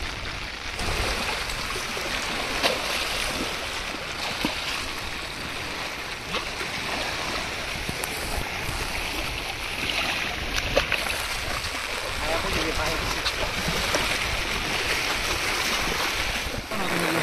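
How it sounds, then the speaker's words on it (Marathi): A strong stream flows near Chas Kaman dam during heavy rain, a constant close rushing of water with no break for the full length. "पाण्याचा प्रवाह सुद्धा बघा किती मोठा आहे."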